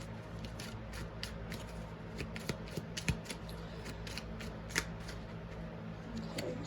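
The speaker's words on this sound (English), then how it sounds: "next I'm going to get a couple cards from this deck to look a little bit deeper into this" Tarot cards drawn from a deck and shuffled, giving a steady papery riffle and flicking with soft slaps, fairly close and quiet, with no talking.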